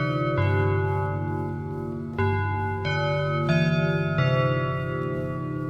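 A school bell rings out in a tuned sequence of sustained, resonant tones, each new note struck loud and close, overlapping and ringing on through the whole stretch with no talk.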